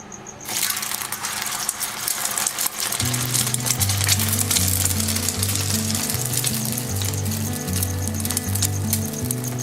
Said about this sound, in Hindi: इसी तरह हम सारे कबाबों को फ्राई कर लेंगे